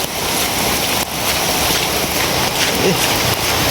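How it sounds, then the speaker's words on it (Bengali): Heavy rain pours down during flooding, with floodwater nearly reaching a house; a dense, steady roar of rainfall sounds close and continuous throughout, without pause. "যে পরিমাণ বৃষ্টি হইতেছে বলার বাইরে"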